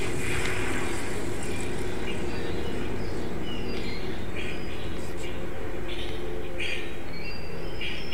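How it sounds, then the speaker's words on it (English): A car drives by in Rage 2 with a loud, sustained vehicle rumble that fills the whole stretch, while faint chirps come and go above it. "That was a car driving by."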